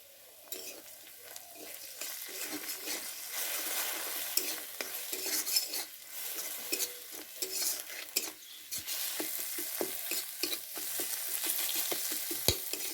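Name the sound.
egg and spices frying in a pan for chowmein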